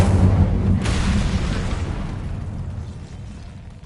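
Confringo and Incendio spells burst in Hogwarts Legacy on PS5, a heavy explosive boom with a sharp crack near the start, then a long rumbling decay that fades out.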